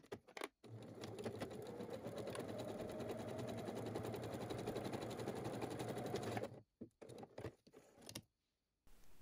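A sewing machine stitches fabric strips together with a 1 cm seam allowance for a small bag, running in one steady rapid burst for about six seconds before stopping, followed by a few short clicks and handling noises.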